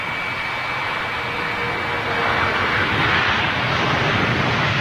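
DHL cargo jet flying past, a broad loud roar of jet engines swelling steadily with a thin whine on top, heard alone.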